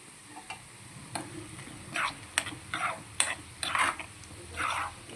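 Urad dal, dried red chillies, cumin and mustard seeds frying in hot oil, with a low steady sizzle broken by repeated scraping stirs and sharp pops and crackles, close and fairly quiet.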